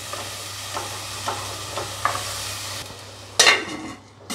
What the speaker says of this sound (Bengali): এবার এগুলোকে ভালো করে ভাজা ভাজা করে নিতে হবে